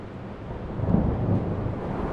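Thunderstorm in the sci-fi video game Return to Grace: a low, steady rumble of rain and distant thunder that swells slightly midway, with no speech.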